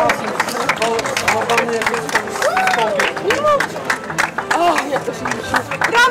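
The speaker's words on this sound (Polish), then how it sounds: "Wielkie brawa." Applause at a triathlon award ceremony rattles steadily through the crowd, with clapping and scattered cheers while people chatter and an announcer speaks over it.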